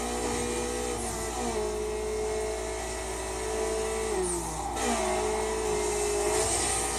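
A car engine in Need for Speed Underground drones at steady high revs for the whole stretch, with pitch dipping and climbing again through shifts. It is loud, continuous and close, with no talking.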